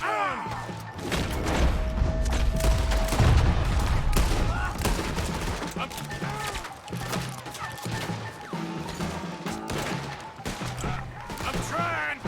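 A Red Dead Redemption II shootout around a wagon, with rapid, dense gunshots cracking continuously for the whole stretch, close and loud, while people shout over the barrage.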